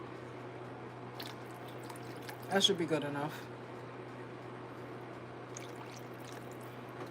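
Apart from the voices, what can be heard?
water poured into a pot of curry with potatoes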